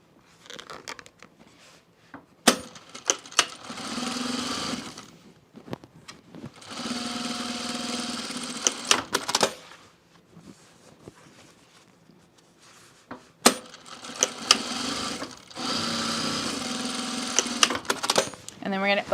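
A sewing machine stitches a quarter-inch seam along the short ends of a fabric project bag, running in three long bursts separated by short pauses, with clicks and handling noise between runs.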